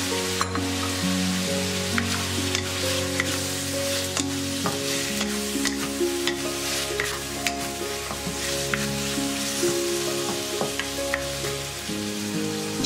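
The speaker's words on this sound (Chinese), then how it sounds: "加入西红柿翻炒至断生" Tomato pieces and chicken are stir-fried in a wok, with a continuous crackling sizzle and frequent sharp clicks of the spatula against the metal, all under a melodic music bed.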